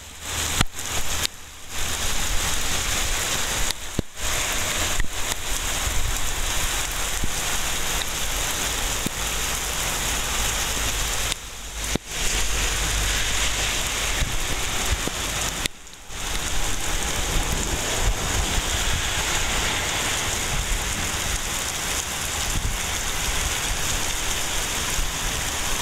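Steady rain falling in Chihuahua, a dense continuous hiss of drops on surfaces lasting throughout, with brief dropouts and no voices.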